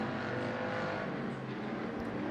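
Race cars roar around the dirt oval at Bakersfield Speedway, a loud continuous drone of several engines in a racing pack without a break.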